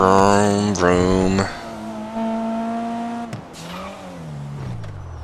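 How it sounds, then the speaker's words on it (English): A car engine in the video game GTA 5, tuned to sound like a rally car, revs hard during a heist drive, its pitch climbing and dropping through several gear changes before settling into a steady drone. "They made this thing sound like a rally car too."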